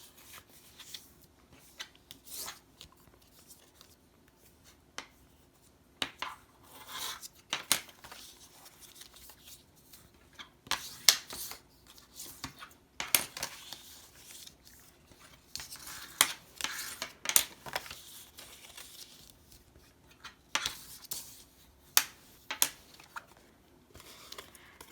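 Paper is scored along the sides of a wedding exploding box, giving scattered scratchy scrapes and soft rustles that come in irregular bursts, close and quiet, with no one speaking.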